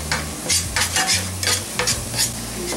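Ground spices (black pepper, cumin, Kashmiri chili, coriander) cooking in a pan for chili paneer sizzle steadily while a utensil scrapes and stirs in several bursts, close up and with no voices.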